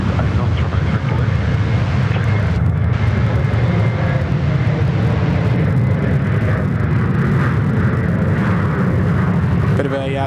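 A China Southern airliner roars during its takeoff run at Sydney Airport, a loud, continuous engine rumble that holds steady throughout.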